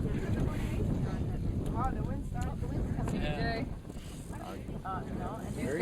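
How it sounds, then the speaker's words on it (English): Wind gusts at a year-end sailing race, rumbling and buffeting the microphone in a steady heavy roar, with people talking and some higher voices over the top. "Wow, the wind started."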